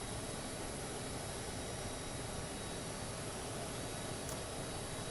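A steady, loud roar of a jet engine from an airplane at an airport as passengers unload, constant broadband noise filling the whole stretch with no talk.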